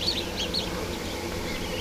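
Newly hatched ducklings chirp in a steady, overlapping chorus of small high peeps, close by and fairly loud, continuing without pause under a background of faint rustling.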